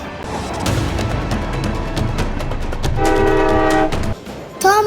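A ride on a Thomas the Tank Engine train: loud rhythmic chugging and rattling wheels throughout, a long tooting whistle blast partway through and a sharp toot at the very end.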